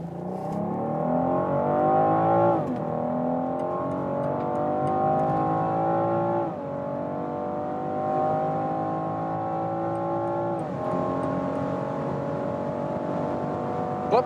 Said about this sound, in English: And I really love that inline six-cylinder sound.